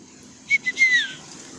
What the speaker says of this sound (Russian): Да, я умею свистеть, а что делать?